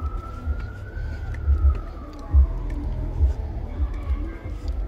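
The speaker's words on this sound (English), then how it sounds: "Ambulance now going down." A distant ambulance siren wails along a street, a faint, slowly falling tone over low traffic rumble and outdoor noise, with a voice speaking at times.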